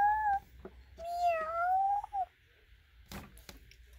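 A cat meows in a Littlest Pet Shop style cartoon game, two drawn-out rising calls up close, followed by a few short clicks and thumps, with no talking.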